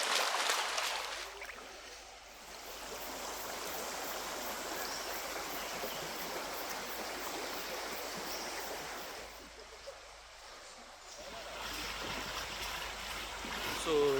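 River water rushes steadily and close by as people wade upstream through Marianne Gorge on Trinidad's north coast, a dense, continuous wash that dips briefly before swelling again.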